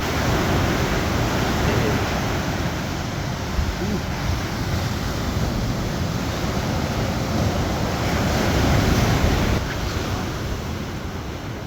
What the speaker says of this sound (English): Good tide's coming in.